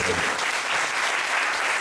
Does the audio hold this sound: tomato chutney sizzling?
no